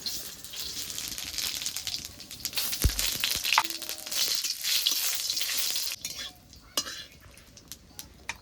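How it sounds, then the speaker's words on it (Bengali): Dried red chillies and whole cumin seeds tempering in hot oil for a thin fish and potato curry give off a steady, close sizzle with occasional utensil clinks, dipping briefly around the six-second mark before resuming. "এবার ফোড়নে দিয়ে দেবো দুটো শুকনো লঙ্কা গোটা গোটা জিরে"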